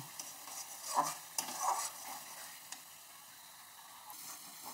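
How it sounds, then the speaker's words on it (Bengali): Chili powder and cumin sizzle in hot oil as they are stir-fried for a potato and egg paneer curry, a soft steady frying hiss broken by a few close clinks and scrapes of a spoon against the pan. "মশলাটা আমি ভালো করে কষিয়ে নিয়েছি, তেল ছাড়তে শুরু করেছে।"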